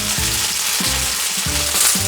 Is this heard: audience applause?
no